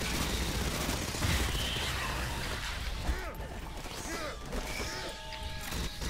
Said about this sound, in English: You know, I really enjoy the SMG.